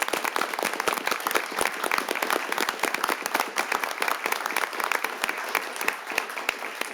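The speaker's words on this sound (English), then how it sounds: "huge round of applause for these folks." A city council meeting audience bursts into a steady round of applause: many hands clapping densely and evenly for about seven seconds, fairly close, with no voices over it.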